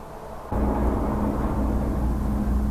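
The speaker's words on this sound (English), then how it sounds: "The only sound you can hear are the cars passing by." Cars pass by on a road near a quiet, abandoned amusement park, a steady broad rumble of traffic that swells suddenly and holds, continuous and moderately close, with no voices.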